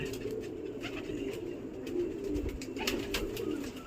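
Pigeons settling onto a perch coo softly and steadily, a low continuous murmur with faint rustling of wings at moderate distance.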